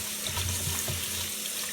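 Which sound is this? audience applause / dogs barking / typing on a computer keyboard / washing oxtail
washing oxtail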